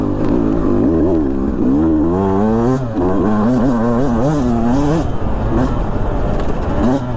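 A 2022 Beta 200 RR two-stroke dirt bike revving hard on a trail through trees, the engine note climbing and falling in repeated loud surges, close and continuous.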